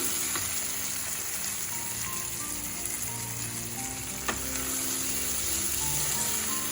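Tomato and masala frying for mutton curry in a pan, a steady close sizzle with soft scraping of stirring throughout and one sharp clack near the end.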